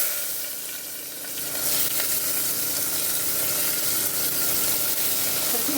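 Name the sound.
cluster beans with asafoetida and chili added to hot oil, sizzling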